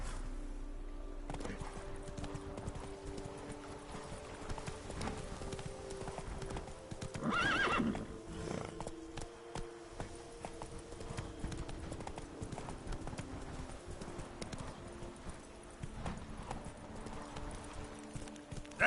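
Hoofbeats of a horse trotting steadily in The Witcher 3: Wild Hunt, a continuous clip-clop with a brief whinny midway, sounding close and fairly loud over a low game-music bed.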